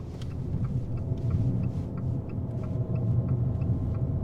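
An Abarth F595 T-Jet drives through a roundabout, heard from inside as a steady low engine and road rumble with slight swells, no talking.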